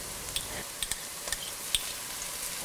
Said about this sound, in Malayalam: വെളുത്തുള്ളി എന്നിവയിട്ട് നന്നായിട്ട് വഴറ്റിയെടുക്കുക.